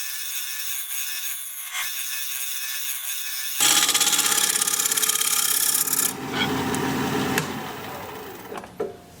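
A gouge cuts into a wooden bowl turning on a lathe, beginning after a quiet stretch as a loud, steady scraping rasp with uneven chatter. It eases off near the end.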